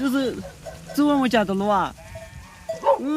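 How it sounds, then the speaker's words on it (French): Several sheep bleat on a small peasant farm in a Ukrainian village, loud and close, with a string of wavering cries following one another over a low background hum. "ce couple élève quelques moutons pour survivre."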